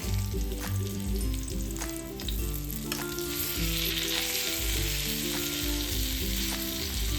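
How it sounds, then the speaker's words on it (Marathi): Fish eggs frying on a low gas flame and being gently turned over, a steady close sizzle with fine crackling that persists throughout beneath background music, no one talking. "यांना ना आता आपण अलगद पलटून घेऊयात."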